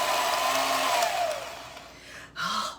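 An electric kitchen mixer whirs loudly and steadily, beating butter and cream cheese for a carrot cake frosting, its pitch sagging partway through before a brief dip and a short final burst.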